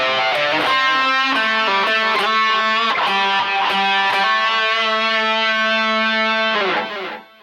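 A distorted electric guitar plays a loud lead phrase in A from the first solo, quick picked notes giving way to one long sustained tone before stopping abruptly.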